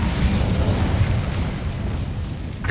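An Incendio fire spell cast in Hogwarts Legacy, heard as a loud, roaring burst of flame with a crackling, rumbling body that holds steady for a couple of seconds before a final pop.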